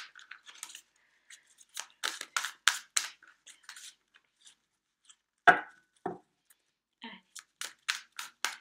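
Tarot cards cut and stacked into three piles by hand, a series of soft, quick papery slaps and shuffles in irregular bursts, close and fairly quiet, with pauses between.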